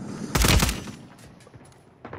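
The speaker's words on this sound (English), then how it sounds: "Now that was a warning shot" A single cartoon warning gunshot fired as a blast, a loud sharp bang with a short echoing tail and faint rumble afterward, heard alone without talk.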